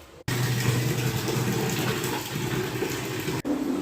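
Water pours steadily into a household bucket from a tap, a constant close rushing fill running uninterrupted for a few seconds, with no voices.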